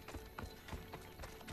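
Quick, soft hoofbeats of a horse in the video game Assassin's Creed Odyssey clatter in a rapid galloping rhythm, faint and close, with no voices.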